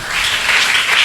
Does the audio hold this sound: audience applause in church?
yes